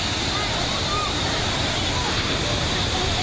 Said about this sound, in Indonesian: Derasnya air sungai meluap hingga ke permukaan jalan dan permukiman warga.